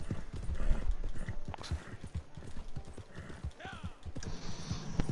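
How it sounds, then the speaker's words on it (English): A horse's hooves clip-clop steadily in a video game, a quick regular rhythm of close knocks with creaks of tack and scattered game effects underneath. "Well, time to get on my horse, Roach."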